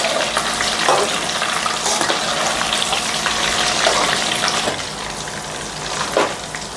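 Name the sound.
chicken pakoda pieces frying in oil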